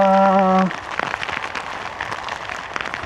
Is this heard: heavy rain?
yes